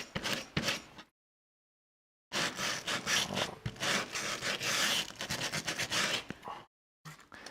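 Repeated dry rubbing strokes roughen the surface of a Mordheim tabletop board, coming in bursts split by brief silent pauses, close and fairly quiet.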